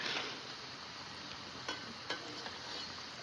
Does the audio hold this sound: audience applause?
no